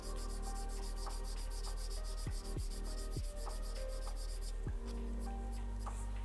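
Low-grit sandpaper scrapes over a small plastic Gunpla model kit part in quick, repeated rubbing strokes. The sound is close and soft, with a steady back-and-forth rhythm and no speech.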